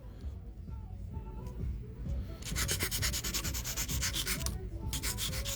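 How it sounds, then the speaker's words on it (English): A soft 240-grit file bevels the free edge of a fingernail, first in faint light strokes, then in quick, rhythmic scratchy rasps close to the mic for a few seconds, with no talking. "I'm going to just bevel out the free edge a little bit. I'm using a very soft file. This is 240."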